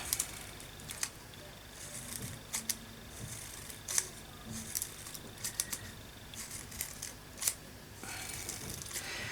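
Scissors snipping paper to cut a feathery fringe for a mixed media art journal piece, a series of quiet, irregular crisp snips and rustles close up, with no talking.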